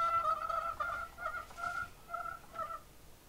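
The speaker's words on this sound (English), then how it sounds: "Chicken." Recorded chicken sound from an online animal-sounds game: a short series of nasal, clucking calls in uneven bursts, moderately loud against a faint background.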